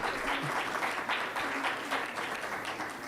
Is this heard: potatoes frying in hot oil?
no